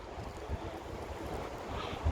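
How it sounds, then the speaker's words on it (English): Steady, blustery wind buffets the microphone with a constant low rumble on a pedestrian bridge in Melbourne, gusting slightly stronger toward the end. "A little windy."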